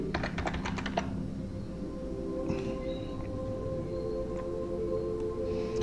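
Fast clicking keystrokes on a computer keyboard with a faulty Z key, typed while editing Android Studio code. A quick burst of close, crisp taps comes first, then sparser clicks over a steady electronic hum.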